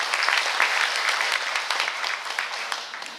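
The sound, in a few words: audience applause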